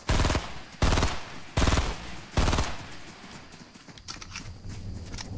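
Loud automatic gunfire from the video game Fortnite, four heavy bursts of rapid shots in quick succession, followed by a lighter rattle of continued firing and in-game effects.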